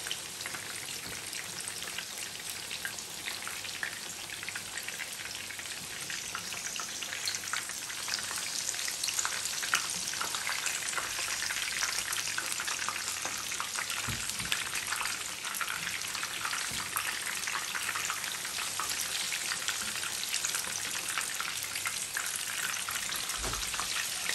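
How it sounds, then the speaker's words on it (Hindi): Lahori-style fish fries in hot oil, a continuous dense sizzle and crackle like steady rain, moderately quiet and unbroken for the whole stretch with no voices. "अब देखिए हमारी फ़िश फ्राई दोनों साइड से गोल्डन फ्राई हो गया।"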